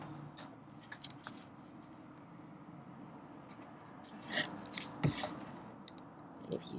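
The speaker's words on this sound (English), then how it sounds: "Cut your notches." Scissors snip notches into corset fabric, a few faint, scattered cuts over a low steady background hum, with no talking.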